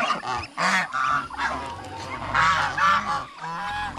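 Farm geese honking repeatedly in loud, close, overlapping bursts with short pauses between calls.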